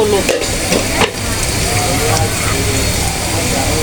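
Onions frying in a pan for a boal fish curry give a steady, loud broadband sizzle throughout, with a couple of brief clatters near the start.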